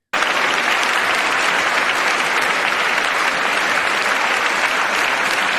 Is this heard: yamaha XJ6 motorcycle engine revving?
no